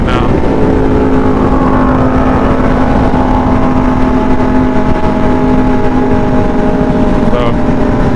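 A sport motorcycle on a group ride cruises at about 105 mph, its engine droning loud and steady with a sustained tone, buried in heavy wind roar close to the rider.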